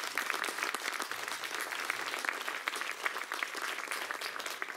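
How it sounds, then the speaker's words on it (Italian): An audience claps at an open-air guitar festival in Vogogna, a continuous, even patter of many hands at moderate distance, fairly soft and sustained, with no talking. "Farei a loro un grande applauso"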